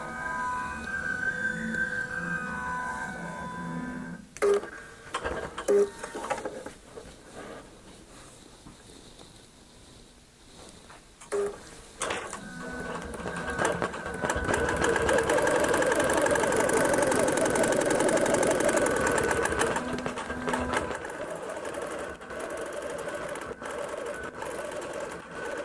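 A QBOT V3 Pro quilting robot stitches a design across a quilt. The needle chatters in bursts, pauses and restarts, then settles into a longer, louder steady run of stitching.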